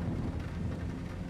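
Heavy thunderstorm rain and wind buffeting a light aircraft cockpit in flight over Cairo, a dense, steady low roar with water streaming across the side and front windows, loud and continuous with no talk.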